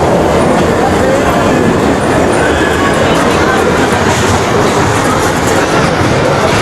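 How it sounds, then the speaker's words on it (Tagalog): A passenger train rumbles loudly and steadily through a crossing by Festival Mall, close by and filling the scene, with no horn sounding because the horn is broken. "Waiting muna kami, may dadaang tren."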